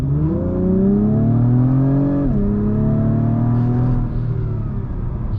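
A 2024 Acura TLX Type S SH-AWD turbo engine revs hard and climbs in pitch, drops briefly at a gear change, then pulls up again, loud and close from inside the car.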